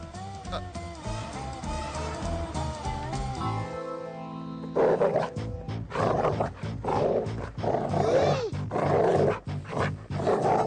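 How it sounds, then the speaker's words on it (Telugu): A dog growls and snarls in a film scene, rough, loud bursts that come after a stretch of music and repeat unevenly until the end. "అదే కుక్క."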